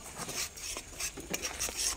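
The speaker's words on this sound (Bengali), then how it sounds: "এবার মশলাটার মধ্যে পরিমাণ মতো হলুদ দিয়ে ভালো করে নেড়ে কষিয়ে নিবে" Masala with turmeric being stirred in a pan, giving quiet scraping and tapping strokes in an uneven rhythm, with only a faint sizzle underneath and no talk.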